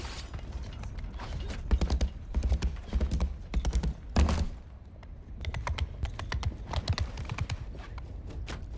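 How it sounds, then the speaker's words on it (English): A horse in Bannerlord gallops and moves around during a siege, its irregular clip-clopping hoof beats clattering in quick bursts at moderate loudness with brief pauses. "My horse is running around going crazy behind me."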